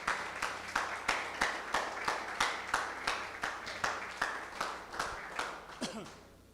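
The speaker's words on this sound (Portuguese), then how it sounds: "Vamos aplaudir bem forte o nome do Senhor Jesus." A standing church congregation claps together in a steady, even rhythm of about three beats a second, for several seconds, then fades out at the end.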